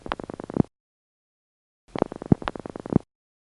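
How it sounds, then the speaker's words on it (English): Two loud clicks on a recorded telephone line in the 914 area, step-by-step switching, each burst followed by crackly line noise, separated by a second of silence. "the event itself consists of 2 loud clicks."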